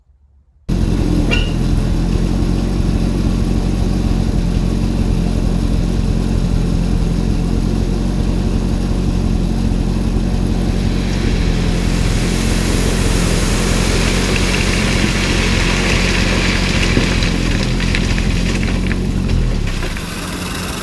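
A homemade dump-truck tractor's heavy engine starts up and runs steadily at a loud, rumbling idle for about twenty seconds, close by, with a slight rise in pitch midway.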